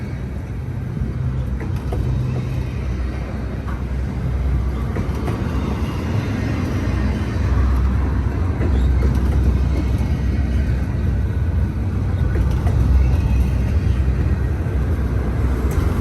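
A long freight train carrying 53-foot piggyback trailers rolls past close by at Verdemont. A loud, steady rumble of wheels and wagons holds for the whole stretch, with no talk.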